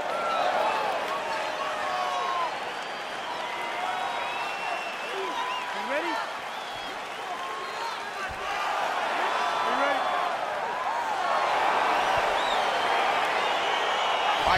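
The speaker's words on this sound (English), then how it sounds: "Crowd getting excited as this fight gets underway" Game crowd in EA Sports UFC 4 builds into a steady roar of cheering as a fight gets underway, loud and continuous throughout with a commentator talking over it.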